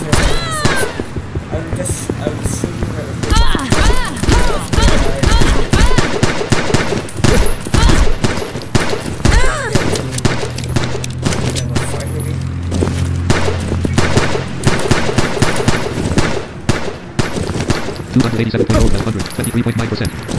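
Rapid gunfire from shooting in the 2D action game Battlefield 2D, dense bursts of shots and impacts repeating steadily and loudly throughout, mixed with game effects and a voice talking over it.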